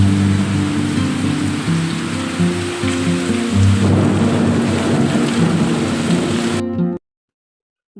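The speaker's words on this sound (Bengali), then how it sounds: "আর আওয়াজটা শুনছো কত জোরে বৃষ্টি হচ্ছে" Heavy nighttime rain pours steadily onto a flooded courtyard with low rumbling thunder underneath, loud and continuous for about seven seconds before cutting off abruptly to near silence.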